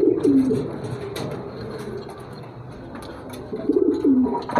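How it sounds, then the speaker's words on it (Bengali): Racer pigeons coo close by in two soft, throaty bursts at the start and end, with a quiet stretch between and faint background clatter. "আজকে রেসার কবুতর দেখাইতেছি এগুলা"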